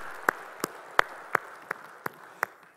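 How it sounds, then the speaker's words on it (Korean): Slow, evenly spaced claps ring out in a church, about eight sharp hand claps roughly a third of a second apart, clear and moderately close against a quiet room. "우리 찬양 박수 주님께 영광의 박수 올리겠습니다"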